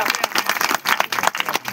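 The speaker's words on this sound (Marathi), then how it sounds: "तुम्ही टाळ्या वाजवलो आनंदाच्या बातमीच्या आधी" An audience at a religious discourse claps in a short burst of dense, uneven applause from many hands.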